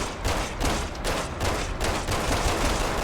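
Sustained rapid gunfire from a magazine being emptied in the co-op survival horror game Resident Evil 6, a dense continuous burst of loud shots running the whole stretch with no pauses.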